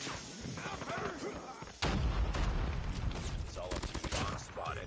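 A sudden heavy grenade blast in the Call of Duty: Mobile video game, a loud booming burst that cuts in midway and rumbles on amid other gunfire and battle noise.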